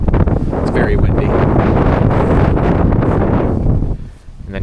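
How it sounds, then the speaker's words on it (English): Strong wind buffets the microphone outdoors in a loud, continuous roar with gusty surges, dropping briefly near the end before picking up again, while a voice speaks underneath. "It's very windy."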